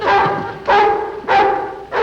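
Dogs bark close by in a neighbouring yard, three loud, evenly spaced barks about half a second apart, with no talking over them.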